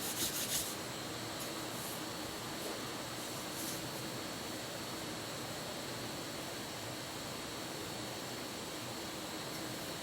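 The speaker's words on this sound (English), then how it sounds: "Okay, sharpening time." A blade being sharpened in a closed shop: a steady, even rubbing and grinding hiss runs unbroken for the whole stretch at moderate level, with a brief brighter scrape near the start and no voices.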